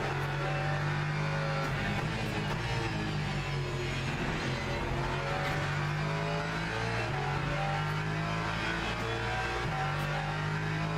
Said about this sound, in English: here comes an awkward hypercar